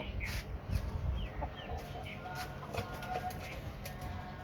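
Chickens and a rooster on a rooftop farm cluck softly and peck at feed in the morning, with scattered short clucks and chirps over a busy background murmur.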